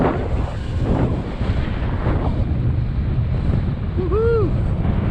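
Strong, gusty coastal wind buffets the microphone with a roar of surf, a small Tello drone flying in the gale, and a brief voice cry near the end.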